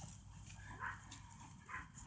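A dog outdoors gives faint, soft whimpering and low vocal sounds off-mic beneath a quiet background, with no speech.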